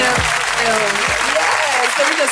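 Studio audience applause fills a design-show studio, a loud continuous clapping wash under a speaking voice.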